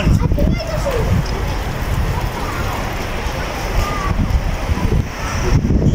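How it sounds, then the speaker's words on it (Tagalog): Strong wind gusting and buffeting the microphone, a continuous roar with surging low rumble throughout. "Malamig ang simoy ng hangin."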